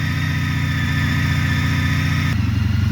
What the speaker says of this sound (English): Now we actually started the engine